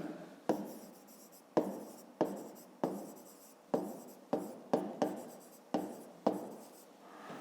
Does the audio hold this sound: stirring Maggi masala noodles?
no